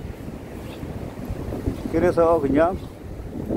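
Strong wind buffets the microphone beside a rough sea at a Korean harbor with high waves and rain, a steady roaring rush, while someone speaks briefly in the middle.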